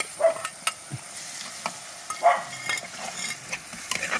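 Ginger-garlic paste frying and being stirred in a pan of oil for a fish curry, with a soft sizzle beneath scraping spoon strokes and a few sharper clinks against the pan, close by and with no talk.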